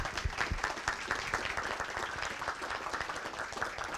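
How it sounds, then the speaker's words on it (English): Applause for the hosts at a meeting, a steady burst of many hands clapping together at moderate volume, with no talk over it. "give your folks a huge round of applause for everything that you've done here this weekend"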